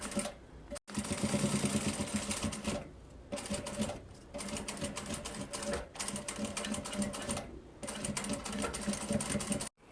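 A sewing machine runs in steady bursts while stitching a reinforced strap seam on a handmade toiletry bag, with brief pauses between runs and faint talk beneath the mechanical hum.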